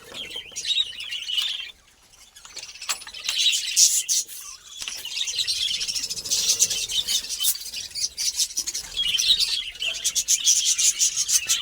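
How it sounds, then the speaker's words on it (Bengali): A colony of budgerigars chirps and twitters busily up close, a dense flock of overlapping high calls with a short lull before the chatter resumes. "এই যে বদ্রিগুলো সেল হবে খুব কালারফুল আর খুব হেলদি পাখি"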